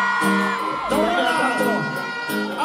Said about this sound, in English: All the pretty ladies scream.